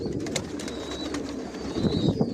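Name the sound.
pigeons cooing in a racing pigeon loft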